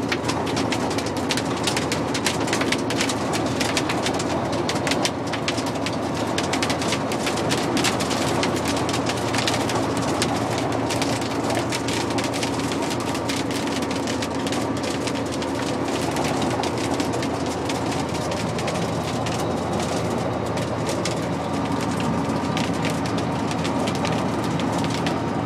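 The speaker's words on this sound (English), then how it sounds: "That's hailstones." Hailstones hammer a car driving into a cold front. The dense, steady pattering drums on the body without letup for the whole stretch, over a low road hum, with no talking.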